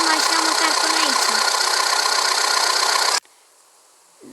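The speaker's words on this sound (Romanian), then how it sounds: "Da, uite, ni s-a oprit și motorul" A pickup truck engine idles with a loud, rough, knocking clatter for about three seconds, then cuts off abruptly into near silence, leaving only faint ambient hiss.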